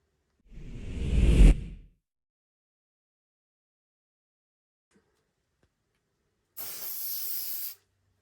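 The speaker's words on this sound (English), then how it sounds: "we're going to spray again in the opposite direction." Fixative spray hisses onto a coloured pencil drawing in two short bursts, a nearby whoosh of about a second, a long silent pause, then a second brighter, steadier spray.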